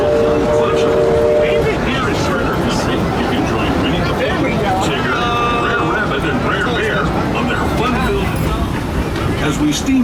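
The Disneyland steam train rolls along the tracks past Hungry Bear Restaurant, a continuous rumbling clatter with a brief whistle-like tone early on and crowd chatter mixed throughout.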